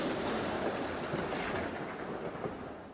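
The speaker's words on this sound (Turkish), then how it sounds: "Şimdi şiddetli fırtınayla ilgili görüntüler var." A violent storm in Moscow roars with heavy rain and rolling thunder, a loud, dense and continuous wash of sound that eases slightly toward the end.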